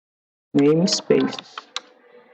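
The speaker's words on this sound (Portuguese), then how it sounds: "Então vocês vão digitar aqui, ó, new JSF2 namespaces." Typing on a computer keyboard: a few scattered clicks and taps follow a short stretch of talk, close and fairly clear.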